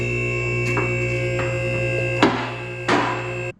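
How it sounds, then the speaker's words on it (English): An electric car lift raises a 1998-2005 Volkswagen Beetle in a workshop, giving a constant, close mechanical hum with a few sharp knocks and clunks over it. "I'm going to raise the vehicle because all the work is going to be from underneath"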